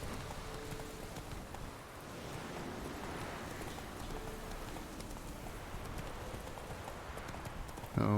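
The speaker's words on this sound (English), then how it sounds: "Oh, starting to rain." Steady hiss of rain beginning to fall in The Witcher 3 during a horseback ride, layered with continuous hoof clip-clop throughout, even and fairly close, with no talking.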